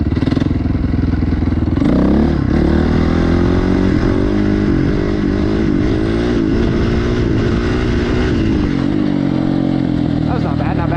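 A motorcycle engine revs hard and steadily during circle wheelie attempts, its pitch climbing and dipping with the throttle, loud and close with wind noise and a voice talking over it.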